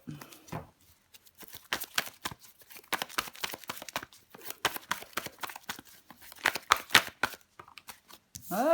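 Tarot cards are shuffled and handled in a quiet room, with repeated crisp riffling bursts and papery flicks in irregular clusters and brief pauses between them, close and fairly soft, with no talking.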